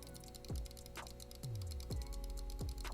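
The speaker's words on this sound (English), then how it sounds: "these things are exactly like mouse clicks" Sharp, crisp clicks from custom hair triggers on a BattleBeaverCustoms game controller, pressed one at a time in a slow irregular series of about five close, distinct taps with no voices.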